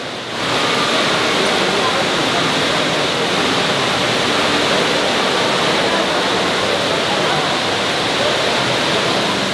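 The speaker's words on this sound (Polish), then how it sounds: "To jest... wodospad w galerii" Loud, steady rushing water pours without pause from an indoor waterfall in a Dubai shopping mall, a dense roar of falling water close by, with no talk over it.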